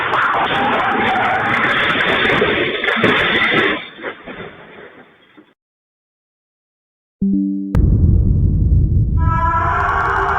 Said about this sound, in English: That car's going super fast.